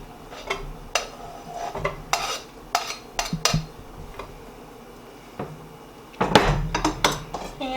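Shredded beef burrito filling tipped into a sauté pan, with a run of clattering scrapes and knocks of utensil against metal pan, a quiet stretch, then a louder burst of scraping and clinking near the end.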